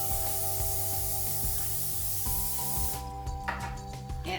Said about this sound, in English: So I'm putting cookie spray on my cooking sheet.